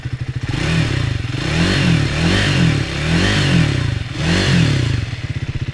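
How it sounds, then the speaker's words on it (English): A Triumph Speed 400 motorcycle revs repeatedly at mid revs, around 5,000 to 6,000 RPM, with a throaty exhaust note. The revs rise and fall in steady swells, close and loud, with no talking. "That's closer to its mid revs,"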